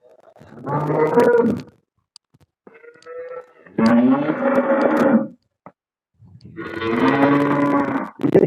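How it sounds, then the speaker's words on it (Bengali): Cows on a dairy farm moo loudly nearby, three long drawn-out lowing calls separated by short pauses, with faint background sounds between them. "অসাধারণ গাভী ডেইরি ফার্মে দেখতে পাচ্ছেন"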